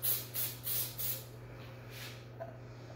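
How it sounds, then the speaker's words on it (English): Short hissing bursts from a Dollar Tree can of spray glue, four quick sprays in a row, then a softer fifth, heard close against a faint steady hum. "I think I sprayed too much in my area"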